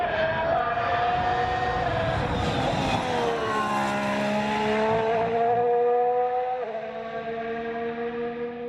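A car engine strains at sustained high revs, its steady tone climbing and shifting pitch as the vehicle accelerates hard, loud and close throughout with no pauses.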